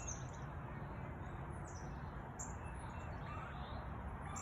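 Birds chirping in trees on a school playground, faint high calls repeating over a steady, noisy outdoor background.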